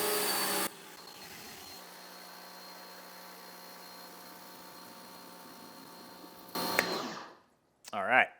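A compact Adams Polishes pressure washer, rated 1500 PSI and 1.2 GPM, sprays with its factory nozzle into a bucket, a steady motor drone with a water rush that runs for several seconds, then surges louder and cuts off.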